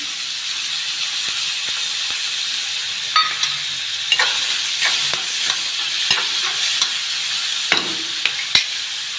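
Chana dal fries in a hot pan with a continuous hiss while a spoon stirs it, scraping and tapping at irregular intervals near and clear, with no talk.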